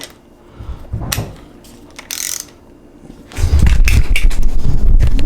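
Torque wrench tightening a bolt to 85 foot-pounds during a timing belt job on a 2.4L turbo engine from a Neon SRT-4 / PT Cruiser GT: bursts of ratcheting clicks, then a longer, louder stretch of steady ratcheting.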